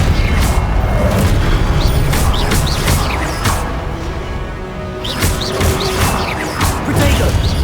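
Confringo explosive spell blasts in Hogwarts Legacy boom and crash amid combat, loud and repeated, with sharp whooshing spell casts and impacts layered over a rumbling background.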